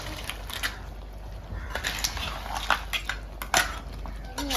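A spoon scrapes and clinks against a pan while masala is mixed over crab for a crab roast, giving a series of close, irregular metallic taps and scrapes.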